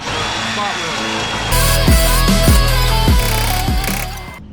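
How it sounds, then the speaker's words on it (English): A power drill whines loudly, drilling out a stuck rivet on the quarter panel of a 1992 Fox-body car. The tool runs steadily, then grows heavier with a rhythmic low chatter as the bit bites, with the sound close and continuous. "So I'm gonna try and rivet this out just a little more."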